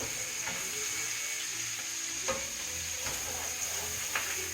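Steady frying sizzle of chicken browning in a pan, with a few soft clicks and scrapes of stirring on top; no talking.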